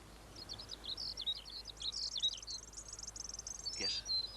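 A skylark sings a long, fast run of high warbling and chirping notes, continuous and fairly faint, over a quiet outdoor background near an oak tree.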